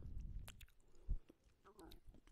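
Close, soft chewing of a crunchy Australian snack, with a few moist bites and crunches spaced irregularly, plus faint breathy mouth sounds and a brief low thump.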